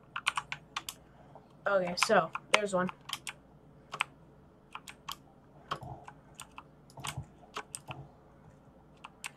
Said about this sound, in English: Probably just hear me like spamming down on my keyboard right now.